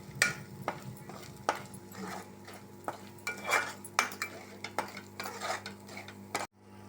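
Salt and masala spices being stirred into dhaba-style egg masala curry in a pan: a utensil scrapes and clinks steadily against the metal with a faint sizzle beneath, close and fairly quiet, ending abruptly.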